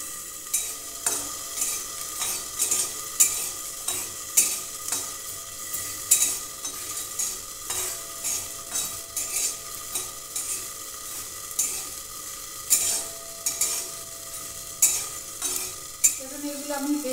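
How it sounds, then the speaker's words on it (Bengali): Dried red chillies and black cumin seeds sizzle in hot oil while a spoon stirs and scrapes the pan in steady, repeated strokes, close and clear with no talking. "আমি এখানে দুটো শুকনো লঙ্কা আর অল্প দুটো কালো জিরে ভেজে নিচ্ছি"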